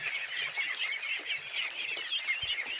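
Pet ducks feeding on chopped banana stem make a dense, continuous chatter of soft quacks and clucking calls, fairly close, with no talk.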